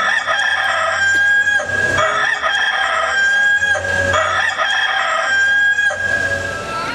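A rooster crows loudly and close by, giving several drawn-out cock-a-doodle-doo calls in succession, with clucking fowl around it and no talk.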